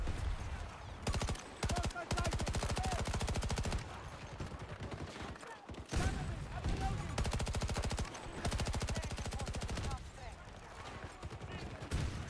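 SMG fire with drum magazines in Battlefield 2042, loud close bursts of rapid automatic shots broken by short pauses, with a voice talking at times between the volleys.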